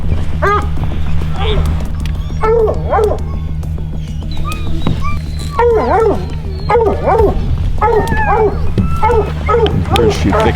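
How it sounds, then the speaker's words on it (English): Hunting dogs bark and yip in excited bursts while chasing a mountain lion in the Idaho mountains, repeated calls at varying distance over a steady low hum, with voices also heard. "it was time to release the dogs."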